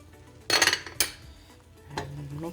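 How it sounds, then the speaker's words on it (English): Bulgur salad mixed with lemon juice in a bowl, heard as two loud close clinks of utensil on dish followed by softer scraping, with no talking. "Mix it well."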